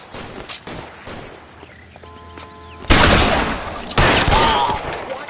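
Gunfire in the crime game L.A. Noire: sparse scattered shots give way to two loud, close bursts of rapid fire, with faint ambient sound between them.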